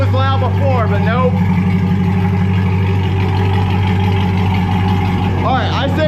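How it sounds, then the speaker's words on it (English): A Chevrolet Corvette C8 fitted with a titanium exhaust idles inside a garage, a loud, steady low drone that fills the whole clip while people talk over it. "Once it gets down to idle, but man, inside this garage especially, it is just crazy loud."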